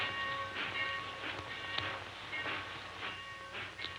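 A train rumbles along with a steady low roar, faint rhythmic clicking of wheels on rails, and a soft hiss, heard from inside or nearby.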